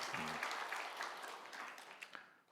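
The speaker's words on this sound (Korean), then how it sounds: "박수합니다." A crowd claps together, sustained applause that slowly fades out over a couple of seconds.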